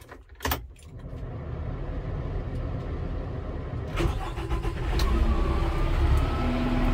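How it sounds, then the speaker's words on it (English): A new Kubota M4 tractor engine starts up and settles into a steady, close, loud idle with a low rumble, then its pitch and volume rise slightly toward the end. "All right, let's turn it on and grab a bale and put it to work."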